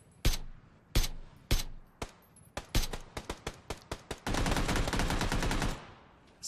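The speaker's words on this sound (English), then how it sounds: "we just heard the silencer. That was an AR silencer about 100 meters out" Suppressed AR rifle fire in PUBG, roughly 100 meters out: a few spaced single shots, then quicker taps, then a sustained rapid burst, muffled and moderately loud.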